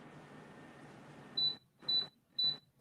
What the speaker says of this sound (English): Sorry for the beeping, y'all.